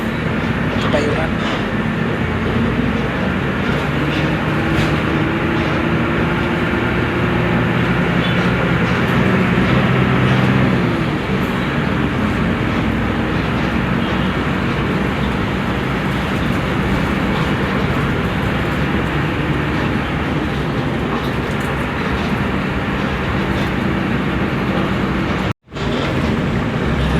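A TransJakarta bus pulling away from a stop in Jakarta, a loud, continuous low engine rumble and road noise filling the cabin for the full stretch, with a voice heard partway through.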